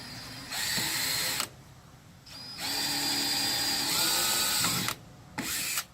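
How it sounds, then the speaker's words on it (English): Power drill boring a 9/64 pilot hole through aluminum, three close bursts of steady high whine with short pauses between, no talk. "Always start with a 9/64 bit first, even though I'm going through aluminum, just to do the first pilot hole here."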